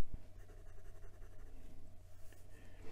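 A medium steel Bock fountain pen nib, tuned and wet-writing, scratching across paper with soft continuous friction and faint strokes, close and quiet.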